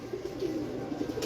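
Pigeons kept by a breeder softly cooing, a steady low murmur of overlapping coos running throughout at close range with no talk.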